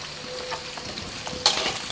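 Steady crackling sizzle of duck skin frying in hot oil, with a sharper burst of spattering partway through.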